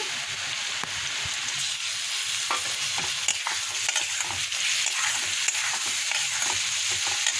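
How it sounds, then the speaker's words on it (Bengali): Spice paste mixed with water being stirred into fried potatoes and onions in a pan, a continuous hiss and sizzle broken by repeated scraping stir strokes, close and steady without speech. "এই যে মশলাটা মশলাটা আমি জল দিয়ে একটু মাখিয়ে নিয়েছি এই যে মশলাটা দিয়ে দিচ্ছি"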